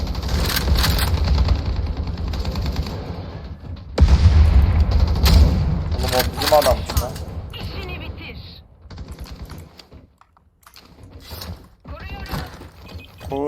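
Silenced weapons fire in the online shooter Battle Teams 2, with quick muffled shots and thuds mixed into game noise while a player talks over the action.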